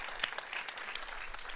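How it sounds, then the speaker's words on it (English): Audience at an election forum claps in a brief, quiet burst of applause, a dense patter of hands with no voices over it. "So give him a round of applause"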